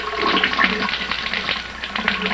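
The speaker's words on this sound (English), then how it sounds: "Say you go to cut the water on." Water gushes steadily from a new bathtub valve spout, a continuous broadband rush with no pauses and no talking.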